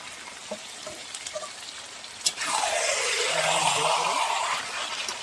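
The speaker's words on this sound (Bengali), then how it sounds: "এবার দিয়ে দিব ভেজে রাখা আলু মাংসতে, কয়েকটা চেরা কাঁচা লঙ্কা, তার সঙ্গে দিয়ে দেব আমি কেটে রাখা টমেটো" Fried potatoes, slit green chillies and chopped tomato drop into a pan of frying meat. After a few light clinks, a sudden loud hissing sizzle erupts and then slowly fades.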